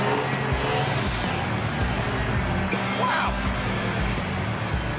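A Chevrolet Biscayne engine about 50 years old, fuel system full of stale gas, runs steadily and loud after starter fluid, with a rough low idle and revving throughout; a voice exclaims briefly over it.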